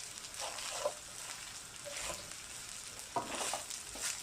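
Fried rice sizzling in a hot pan, a continuous bright crackling hiss with a few stirring scrapes rising out of it, close and steady with no talk.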